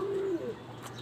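A pet pigeon gives one short, soft coo near the microphone against a low background hum.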